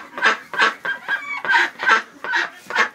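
Ducks sitting on nests in an indoor pen give a run of short, nasal quacking calls, about eight in a steady rhythm, loud and close with no talk.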